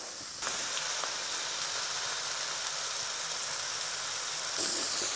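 Apple slices sizzle in a little oil in a frying pan, a sudden onset of steady close hissing and crackling that continues evenly for several seconds.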